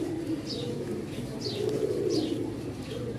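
Good-breed pigeons in a fancier's collection coo steadily nearby, a low, throbbing, overlapping murmur broken by a few short, high chirps.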